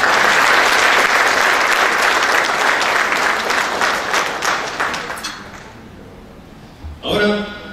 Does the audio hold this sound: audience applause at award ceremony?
yes